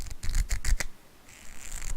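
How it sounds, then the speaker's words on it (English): Pen or pencil scratches on a paper notepad in a quick burst of rough scraping strokes, then a softer rubbing stretch, close and fairly faint with no talking. "That's the sound of my notepad"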